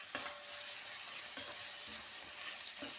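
Turmeric being stirred into onions frying in a cooking pan: a faint, steady sizzle with a few soft spoon scrapes against the pan.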